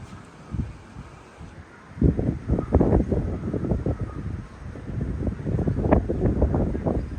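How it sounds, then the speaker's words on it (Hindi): Cool wind gusts before rain in Islamabad buffet the microphone in uneven bursts of low rumbling, quiet at first, then stronger and choppy for several seconds. "ठंडी हवा चल रही है"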